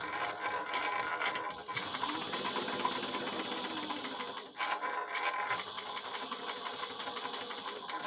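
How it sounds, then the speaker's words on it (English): Sewing machine stitching pocket trim on a fabric bag at a quarter-inch seam, a steady rapid mechanical whir with a short pause and restart, close and continuous without talk. "We're going to sew at 1/4 of an inch."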